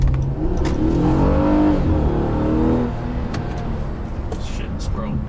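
A 2014 Honda Accord with a Ktuned V6 pulls hard at full throttle in sport mode, the engine note climbing steeply for about three seconds before easing into a lower, steadier drone as road noise carries on.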